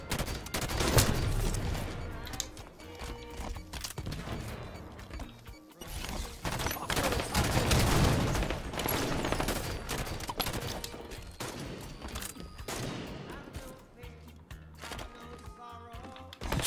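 Rapid, sustained gunfire from a Halo 5 match plays loud and dense throughout, with bursts of automatic fire and impact crashes, and speech faintly mixed in.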